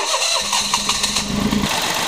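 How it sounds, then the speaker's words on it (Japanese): A Daihatsu Tanto's faulty engine cranks briefly and catches, then runs at a rough, noisy idle; no talking. "はい再びエンジンかけてやってみますは"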